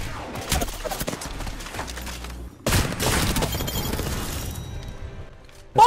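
Hemlok burst rifle fire in Apex Legends: clusters of sharp shots and impacts with loud crashing bursts, a brief lull, then another dense volley and a final loud hit at the end.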